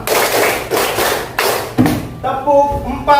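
A class of students claps out a counted rhythm pattern together, loud broadband bursts falling in regular groups, before the clapping breaks off and voices take over near the end.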